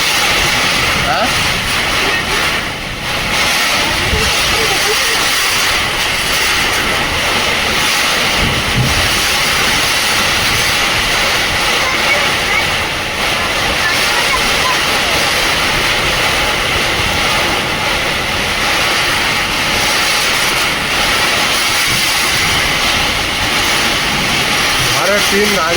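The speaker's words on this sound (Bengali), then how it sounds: "ঘরের টিন নাড়িয়ে দিচ্ছে।" In a heavy storm, wind and rain roar loudly and without a break over a tin roof, rattling it for the whole length. Voices talk faintly beneath the din.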